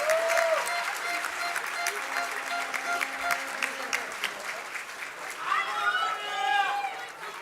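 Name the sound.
applause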